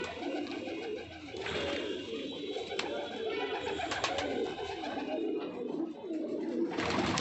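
Pigeons in a loft coo softly and continuously in a dim space, with a few sharper calls and flutters over a steady background murmur.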